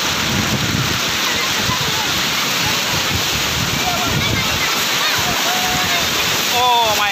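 Strong sea waves crash and wash continuously at Sea View beach in Karachi, a loud, steady roar of surf that fills the whole stretch.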